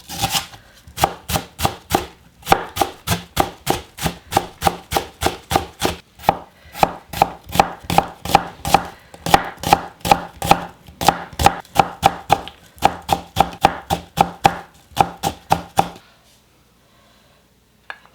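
A knife finely chops onion and scallion on a board in quick, steady, close strokes, dozens of sharp evenly spaced taps that run without pause before stopping into near silence.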